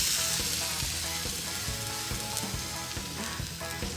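Chicken skewers sizzling loudly on a hot grill, a continuous crackling hiss with small pops and no voices.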